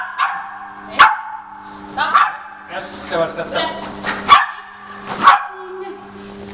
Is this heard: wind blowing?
no